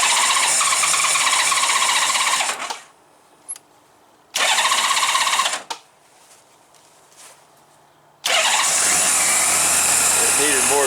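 A cold Honda GL1500 Goldwing motorcycle engine on choke after a carburetor clean, cranking and catching in loud bursts that die away twice before firing again, with a squealing starter and someone talking between attempts.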